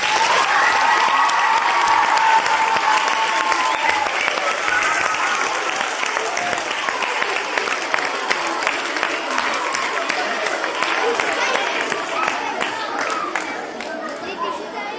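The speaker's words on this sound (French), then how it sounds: "On peut les applaudir bien fort" At an award ceremony for an orienteering competition in Singapore, a crowd including children claps steadily and continuously, with chatter mixed underneath and a slight fade near the end.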